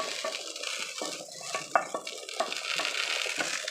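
Tempering is poured and mixed into a Bogura-style mashed potato dish (alu ghati), giving a steady wet, scraping sizzle with intermittent clinks of a utensil against the bowl.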